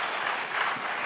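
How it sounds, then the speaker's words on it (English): A presidential debate audience claps in a brief, dense burst lasting about a second, loud and continuous, with no voice over it. "Can we please hold the applause?"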